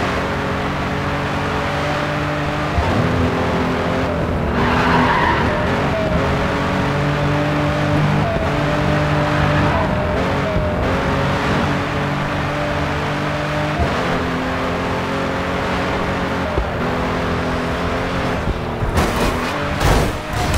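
A racing car engine drones and revs steadily in Grid 2 as the car slides and breaks loose, with gear shifts stepping the pitch and faint tire scrubbing, loud and continuous throughout.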